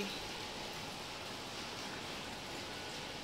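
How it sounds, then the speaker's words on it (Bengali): Heavy rain falls in a steady, dense hiss of even loudness, continuous throughout with no talk. "প্রচুর বৃষ্টি হচ্ছে বন্ধুরা, 2 দিন হলো এত বৃষ্টি"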